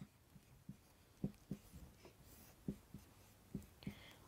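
Handwriting words with a pen on paper, a series of short, soft scratching strokes and taps in an irregular rhythm, close and quiet with no talk.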